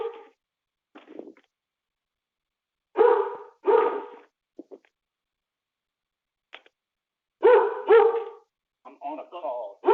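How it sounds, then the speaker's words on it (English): A dog barks at someone at the front door, sharp repeated barks in bursts through the middle and end, mixed with nearby voices talking. "my dog is barking because I got someone at the front door"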